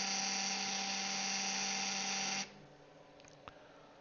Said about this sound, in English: any chattering like that, you're not engaging fully with the socket